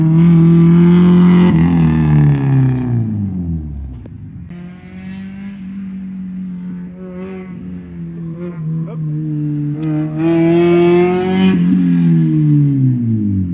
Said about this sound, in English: Somebody brought the drift car out today.